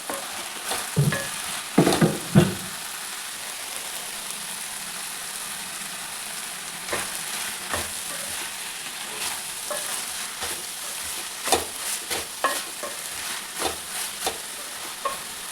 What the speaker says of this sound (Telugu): బీరకాయలు బాగా కలుపుకున్నాం కదా